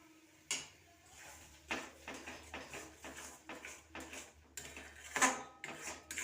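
Spatula scraping and clinking in a pan as ridge gourd peel paste is stirred with fried onion, a series of soft irregular scrapes and light metallic knocks, fairly quiet and close, with no voices.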